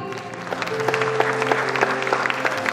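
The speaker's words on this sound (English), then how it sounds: "Parents keep on clapping for him" Parents clap steadily at a school prize distribution ceremony, a dense crowd patter with sharper individual claps over a sustained background tone, moderately loud and continuous throughout.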